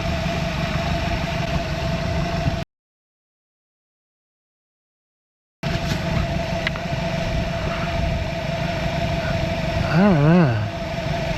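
A 2023 Mercury 150hp four-stroke outboard idles with the throttle raised slightly to warm up, a steady mid-pitched engine drone that runs throughout apart from a gap of silence, with a brief spoken phrase over it.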